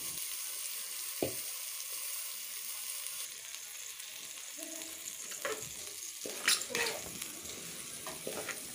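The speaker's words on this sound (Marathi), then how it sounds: "तांदूळ हे तेलामध्ये चांगले परतून घ्यायचे।" Washed rice with a little cumin being sautéed in hot oil in a pan, giving a steady soft sizzle with a few sharper stirring scrapes and clatters near the end.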